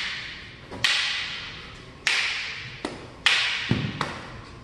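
Rattan double sticks crack together in a Filipino martial arts Pekiti Tirsia drill, four or five sharp, loud strikes spaced about a second apart, each followed by a short ringing decay.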